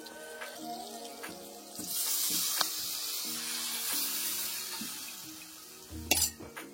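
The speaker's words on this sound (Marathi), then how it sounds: "त्याचं हे पाणी आता हे फोडणीला ऍड करायचंय" Water strained from blended small crab claws poured into a hot tempering for stuffed crab curry: a steady rushing hiss lasting several seconds, with light clinks and a sharper sizzling burst near the end. No one speaks.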